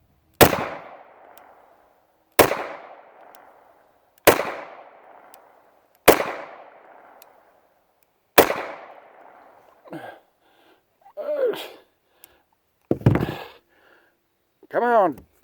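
Five sharp pistol shots from a Girson Compact High Power handgun at an outdoor range, evenly spaced about two seconds apart with short decaying echoes, followed by someone talking.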